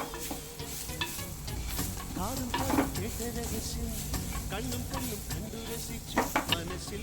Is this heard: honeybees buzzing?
no